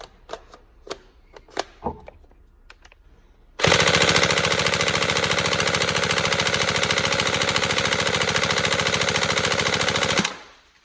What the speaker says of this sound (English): Right, fires nice and quick.